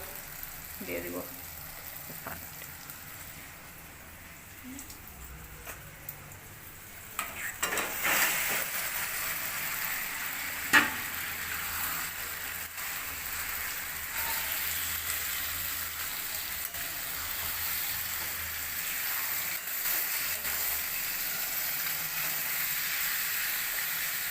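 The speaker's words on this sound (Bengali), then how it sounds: "এবার এতে ধুয়ে রাখা চিকেনটা দিয়ে দিব।" Washed chicken going into a pan of frying onions, a soft sizzle that builds into a steady louder frying hiss with some stirring knocks, with a person talking over it.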